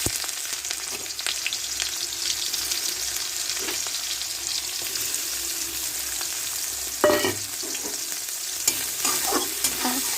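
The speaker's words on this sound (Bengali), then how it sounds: "এবার আমি যে পেঁয়াজ কাঁচা লঙ্কাটা কেটে রেখেছিলাম সেটা তেলের উপর দিয়ে দেবো।" Chopped onion and green chilli fry in hot oil in a wok, a steady bright sizzle with occasional stirring scrapes and a louder crackle burst partway through, with no talking.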